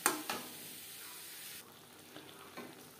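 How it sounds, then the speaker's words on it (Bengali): Radish and red lentils stir-fried in a pan, with a faint steady sizzle and a few soft scraping stirs at the start, no voices. "মূলোর সাথে মুসুরির ডাল 2-3 মিনিট নাড়াচাড়া করে নেব।"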